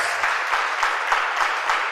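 A church congregation applauds during a sermon with dense, steady clapping that has a slight pulsing rhythm, with no voices over it.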